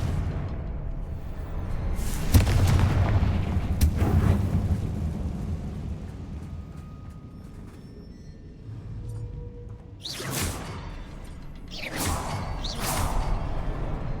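Spell blasts in Hogwarts Legacy go off as booming fiery explosions with whooshing bursts, one large blast early and several sharp repeated hits later, all loud and close.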